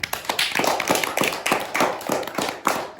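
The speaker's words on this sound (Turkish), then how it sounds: "Alkışlıyoruz Ahmet'i" A small class claps for a student named Ahmet, a close, uneven patter of hand claps in quick bursts with no talking.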